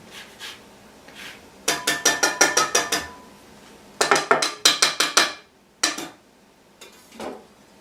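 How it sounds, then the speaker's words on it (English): Utensil stirring chicken cordon bleu ingredients in a pan, heard as quick bursts of clattering scrapes and clinks, a rapid run of strokes followed by a second flurry and a few scattered taps, close and fairly loud with no talking. "Just stir that around."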